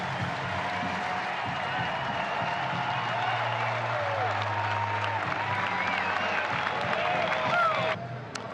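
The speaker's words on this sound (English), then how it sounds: "now Stephen Kolick's going to get a huge ovation from the Kauffman Stadium crowd as he walks off after 7 1/3 innings of great baseball today" A large crowd at Kauffman Stadium, Kansas City, keeps up a sustained ovation of applause and cheering for a departing pitcher during a baseball game. A broadcaster's voice runs underneath before the noise drops off near the end.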